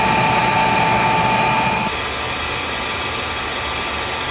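A loud steady oil burner roar with a whining tone that cuts off partway, leaving a lower continuous rumble.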